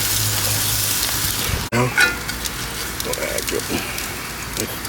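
Butter sizzling and frying on a gas grill, a steady crackling hiss close by that cuts out briefly, then returns with a few scraping stirs while someone speaks over it.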